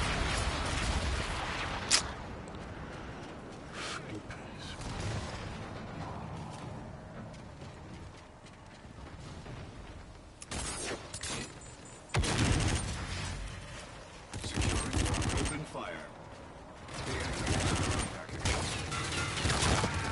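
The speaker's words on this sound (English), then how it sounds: "Enemy bombardment incoming" Enemy artillery bombardment in a video game, with bursts of heavy explosions and gunfire arriving in clusters, loud blasts separated by quieter stretches, mixed with battle noise.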